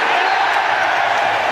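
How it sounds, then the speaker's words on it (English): A football stadium crowd gives a dense, loud, sustained roar of cheering for a penalty, with a voice speaking over it. "Rather ironic cheer greets the penalty."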